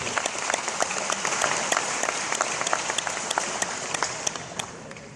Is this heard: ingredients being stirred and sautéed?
no